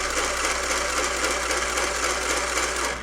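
A Singer Zig Zag toy sewing machine driven by its foot pedal, a close, steady mechanical whir with a low motor hum that runs without pause for about three seconds.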